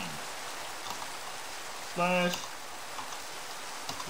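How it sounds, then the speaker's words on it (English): Steady rain from a video game hisses evenly throughout, with one short spoken word breaking through midway. "It always starts raining"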